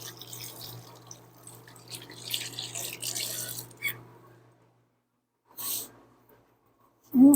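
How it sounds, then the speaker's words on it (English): Water running from a kitchen tap as fingers are washed, a close splashing flow for about four seconds, then silence broken by a short second burst of water and a final brief noise. "I'll wash my fingers off here a minute"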